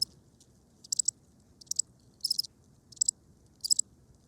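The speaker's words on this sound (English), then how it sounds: "you hear crickets" Crickets chirp in short, high bursts, about six evenly spaced trills, fairly faint over a low, quiet background with no one speaking.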